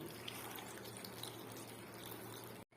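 Water pours steadily into a cooking pot for a few seconds, a soft continuous splashing that stops abruptly near the end.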